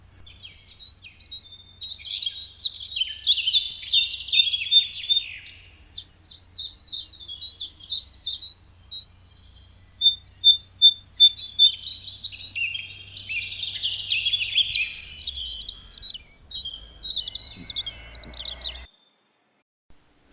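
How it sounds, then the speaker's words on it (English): Several male birds sing in a spring dawn chorus in the New Forest, a dense run of high chirps and trills that carries on steadily for about twenty seconds over a faint low hum, with no talking. "At this time of year, the male birds sing to attract a mate and to defend their territory."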